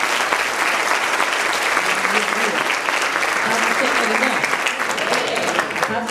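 A church congregation claps steadily at an evening worship service, dense continuous applause filling the room from start to finish, with some voices mixed into the clapping.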